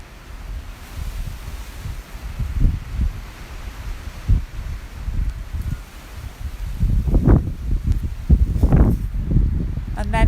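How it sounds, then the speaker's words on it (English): Garden tree leaves rustle in gusts of wind, a soft breathy swell that rises and falls, with louder wind buffeting toward the end. "it has a lovely rustle to it when the wind blows"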